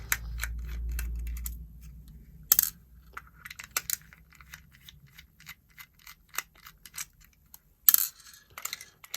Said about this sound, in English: So let's get the batteries out.